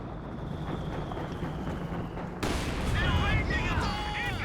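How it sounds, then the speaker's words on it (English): Heavy mortar fire in Company of Heroes 2 thumps and booms amid a rumbling battlefield, with a loud blast midway and chattering combat after, under voices. "That heavy mortar continuing to hit hard"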